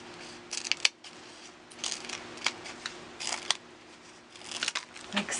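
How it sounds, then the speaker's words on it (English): Old scissors cut stencilled gold and black cards in half, giving several sharp snips and crisp paper crunches at irregular intervals against a quiet background. "I think I'm going to cut them down, my old scissors, in half."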